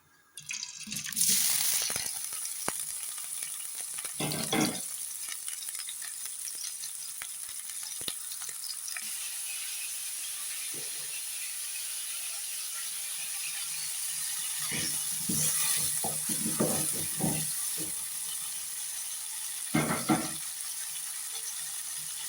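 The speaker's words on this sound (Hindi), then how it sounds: "मैंने ये कढ़ाई चढ़ा दी चूल्हे पे। अब मैं सबसे पहले ये टमाटर डालूंगी।" Tomatoes sizzle in a hot kadhai on the stove, a constant bright frying hiss running throughout, with occasional scraping and clattering bursts from stirring.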